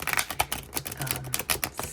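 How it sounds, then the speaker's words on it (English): A stiff tarot deck gets a quick shuffle, giving a short run of close, dry card clicks and riffling snaps in an uneven rhythm. No voices. "First, want to give this the quickest of shuffles."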